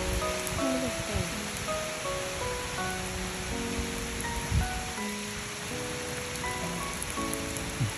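Heavy rain pours down steadily in a broad, constant hiss, with faint tonal sounds and a few soft thumps over the top and no voices.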